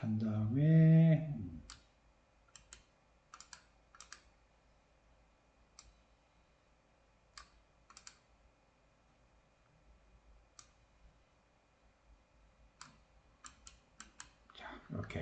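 Keys click on a computer keyboard while Java code is typed and compiled with the javac command, sparse separate taps spread across a quiet stretch after a person speaks, then a final Enter keystroke.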